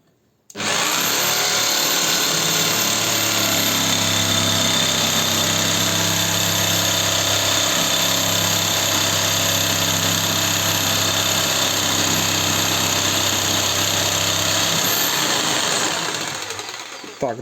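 RONIX 4111 jigsaw fitted with a Bosch metal blade cutting through 8 mm thick metal, a loud, steady buzzing saw whine running continuously for about fifteen seconds, close up and alone.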